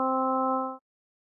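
A synthesized steady tone built from five equally weighted harmonics sounds once for under a second, clean and even, then stops abruptly into silence.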